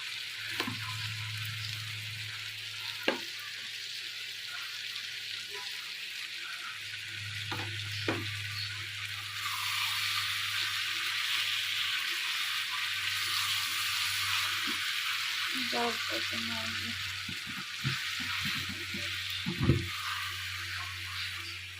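Duck meat sizzles in a pan as it is stirred with date palm jaggery, giving a steady frying hiss with occasional scrapes and clinks of the spoon and a low background hum.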